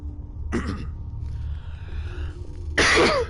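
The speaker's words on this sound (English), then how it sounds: "Apologies for the cough." A man's cough heard twice, a short burst early and a louder, harsher one at the end, close to the mic over a low steady background hum.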